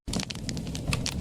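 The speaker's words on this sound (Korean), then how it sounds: "진짜 장작이 타는 것 같죠?" A crackling firewood effect from a voice changer app gives irregular sharp pops and snaps over a low, steady rumble, close and fairly loud with no voices.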